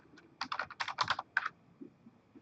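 Rapid bursts of keystrokes on a computer keyboard while entering PowerShell commands, a quick run of clicky taps followed by a few softer scattered presses, close and clear with no talking.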